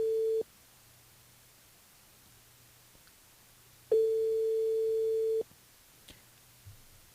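A telephone ringback tone as a radio host calls a listener on a live show, with two long steady tone bursts separated by a few seconds of quiet line hum and faint clicks.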